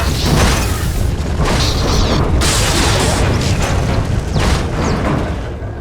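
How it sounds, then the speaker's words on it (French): A stabilizer exploding on Makeb in SWTOR, a loud, continuous rumbling blast with heavy low booms and crackling debris bursts rolling on for several seconds. "Un de nos stabilisateurs a explosé."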